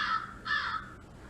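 A crow caws twice in quick succession, harsh and fairly close, followed by quiet.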